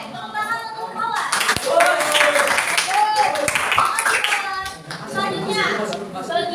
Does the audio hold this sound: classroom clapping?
yes